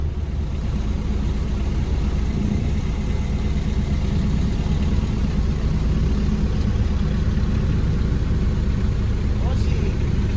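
A car engine idles steadily after a roadside rescue, a constant low rumble and whir holding close and even throughout, with faint voices in the background.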